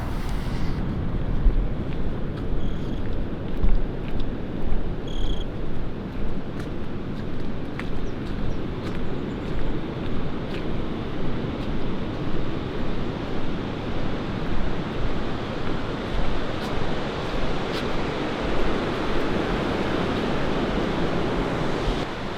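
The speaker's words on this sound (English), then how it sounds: "Birds are singing. It's pretty beautiful. I hear waves." Steady ocean surf rolling in, a continuous rushing wash with gentle swells, heard from nearby with some wind noise, birds singing and no talking.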